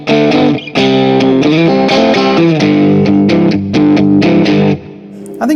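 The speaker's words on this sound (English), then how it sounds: "I think position 2 might be my favorite, you know, kind of classic Strat sound." A Glarry Strat-style electric guitar played through the middle-position pickup setting, bright hum-canceling tone with sustained chords and picked notes, loud and alone, with a brief pause near the end.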